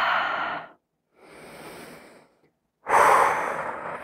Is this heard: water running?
no